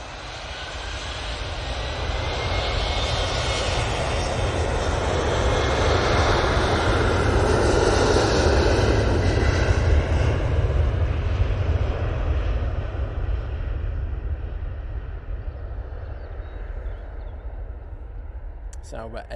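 An Embraer jet passes at Manchester Airport, a loud sustained engine roar that swells to a peak midway and then slowly fades as the aircraft moves away.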